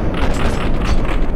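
A loud, dense burst of gunfire in Max Payne 3, a heavy booming crackle through the whole brief moment, close and harsh with no voice over it.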